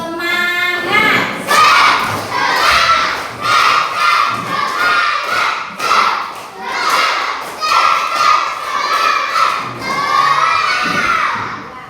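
A group of schoolchildren performs a rhythmic clapping chant, loud and close, with bursts of rhythmic clapping between shouted, cheering voices across the whole stretch.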